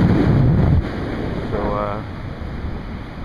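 Ocean surf rushes onto a beach during surf fishing, a loud, broadband roar with heavy wind buffeting the microphone, briefly under a voice.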